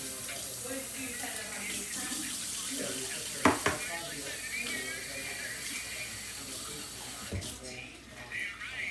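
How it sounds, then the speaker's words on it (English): Kitchen tap water runs into empty tomato cans, a steady hissing splash with a hollow tinny ring and a couple of sharp clanks of the cans, fairly faint and close. "So I'm gonna put some water in each can."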